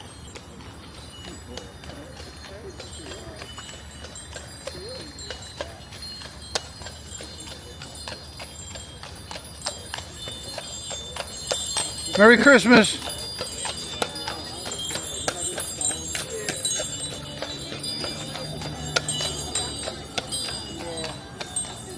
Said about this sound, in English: I hear clip clopping horse.